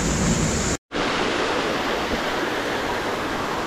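Steady rushing water from a small waterfall beside a large boulder in a mountain stream ravine, a constant broadband roar filling the clip with one brief dropout near the start.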